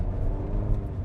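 A 2026 GMC Canyon AT4 pickup crawls over stones in four-wheel drive, giving a steady, loud low engine rumble and drivetrain whir with no break across the moment.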